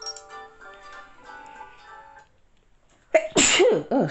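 A person lets out a loud, close sneeze near the end, following a stretch of faint ringing electronic tones and a brief near-silence.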